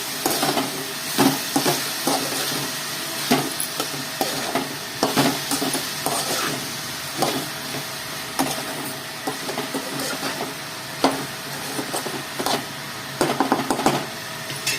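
A tempering for ridge gourd curry sizzles and fries in a pan, a steady crackling hiss broken by repeated close scraping stir strokes and spatters.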